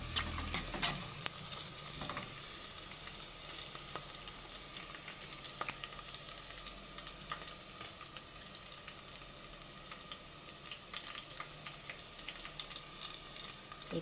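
Onions fry in a pan for a vegetable curry of brinjal, ivy gourd and tomato, with a continuous soft sizzle and occasional stirring scrapes and clicks, fairly quiet and close.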